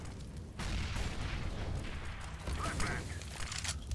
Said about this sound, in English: Flashbang goes, followed by a nade.